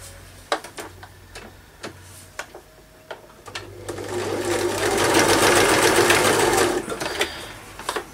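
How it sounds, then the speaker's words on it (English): A sewing machine stitches straight across a paper page for a winged paper doll project: a few scattered ticks and short runs, then a steady, loud mechanical whir that holds for several seconds before breaking back into ticks. "So I might just sew straight across there."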